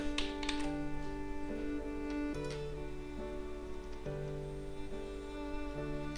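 Someone types a message on a computer keyboard, with soft, quick, steady key clicks running throughout over a faint background tone.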